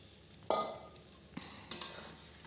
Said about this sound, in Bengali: এবার সয়াবিন আর আলু দিয়ে দেবো।